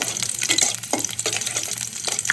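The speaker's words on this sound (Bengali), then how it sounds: "রসুনটা একটু হালকা নাড়াচাড়া করে" Garlic frying in oil in a pan, crackling sizzle punctuated by several soft scrapes of stirring, close and moderately quiet.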